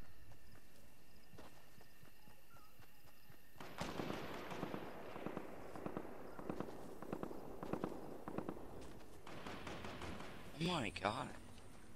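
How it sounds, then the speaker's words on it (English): Gunfire in a Fortnite match, bursts of rapid popping shots in the middle distance that start suddenly and carry on in clusters, with a player's voice reacting briefly. "So much shooting over there."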